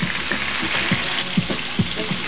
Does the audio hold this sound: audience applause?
no